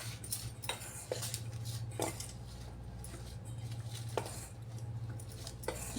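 Cauliflower pieces are mixed by hand into gobi manchurian batter in a bowl, giving soft wet squelches and occasional light clinks that repeat steadily over a constant low hum.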